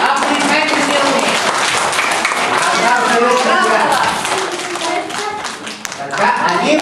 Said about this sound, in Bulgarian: Аплодисменти за колегията! Аплодисменти силни!